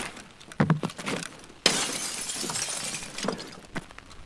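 Window glass shattering inside the Escape From Tarkov Labs map, a sudden loud crash with scattered tinkling debris trailing off, preceded and followed by footsteps and game noise.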